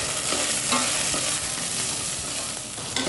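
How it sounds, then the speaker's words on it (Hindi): Finely chopped onions fry in a pan for vegetable pulao, a loud steady sizzle with scraping stirs close by and no voices. "प्याज डाला आपने, प्याज भून चुका है"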